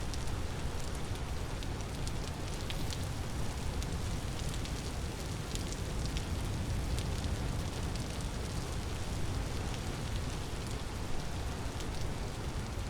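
Steady, dense rain pours without a break in a video game, a continuous broadband hiss and patter with no voices and no change in level.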